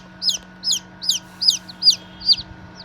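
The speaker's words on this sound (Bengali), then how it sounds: "দেখুন আমার মুরগির বাচ্চাটি কীভাবে ডাকতেছে, যদিও এদের মা নেই" Incubator-hatched native (deshi) chicken chick calling without its mother: six or seven sharp, high cheeping peeps at a steady, even rhythm, close to the microphone, over a low background hum.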